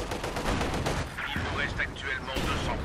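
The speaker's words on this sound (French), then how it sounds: "Coup de Panzerfaust ici." Booming Company of Heroes 2 weapon blasts fire in a dense, continuous barrage, loud and rumbling throughout, with a Panzerfaust anti-tank rocket shot among the explosions.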